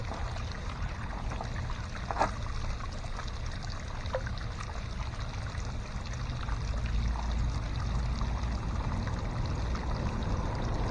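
A modest flow of water runs down a gold sluice box at a river, a low steady rushing trickle with a few sharp splashes and clinks, moderately quiet and close, no speech.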